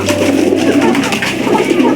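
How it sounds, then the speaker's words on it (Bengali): Domestic pigeons coo steadily and close by on a farm keeping local and foreign pigeon breeds, with low rolling calls repeating throughout over a constant low background hum. "আমাদের সকল কবুতরের ডাক আলহামদুলিল্লাহ অনেক ভালো।"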